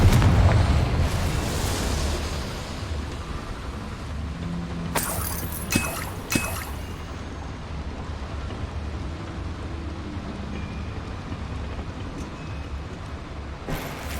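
A Confringo fire spell blasts in Hogwarts Legacy, a short burst of explosive crackle among steady game ambience and rumbling, with a couple of sharp impacts midway and another near the end; no talking.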